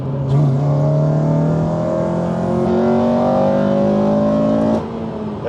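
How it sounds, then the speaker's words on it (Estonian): A Honda Civic Type R with a VTEC engine accelerates hard, its loud, close engine note climbing steadily in pitch for several seconds before easing off. "Siit saab kiirendada natukene."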